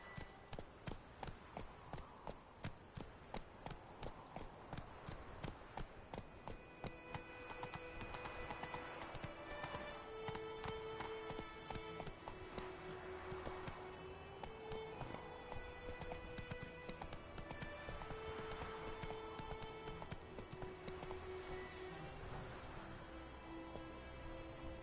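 Roach the horse gallops in The Witcher 3, fast even hoofbeats drumming steadily and close throughout, with a music score rising underneath partway in.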